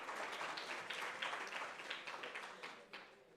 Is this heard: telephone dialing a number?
no